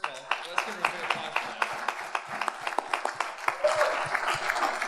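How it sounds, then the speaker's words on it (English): Audience at a summit and gala panel clapping, with scattered distinct claps at first that thicken into fuller applause toward the end, while people talk over it. "let's give her a big applause"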